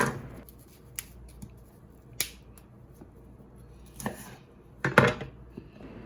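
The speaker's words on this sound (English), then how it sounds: "How about some broccoli and some potato wedges? Cue the chopping montage." Broccoli and potato wedges are chopped on a cutting board in a home kitchen, a few sparse, sharp knife taps and clacks scattered across quiet moments, with a louder cluster of cuts near the end.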